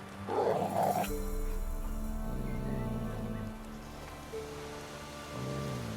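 A tame dog in The Witcher 3 gives a short low growl or snuffle at the start, followed by quiet game ambience with soft tonal music and no talking.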